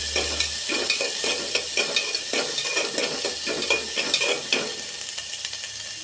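Onions frying in a pan, a dense close sizzle with rhythmic stirring scrapes roughly every half second throughout.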